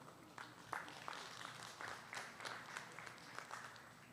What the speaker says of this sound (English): Let's give these cows a round of applause out here for our senior champion or grand champion drive.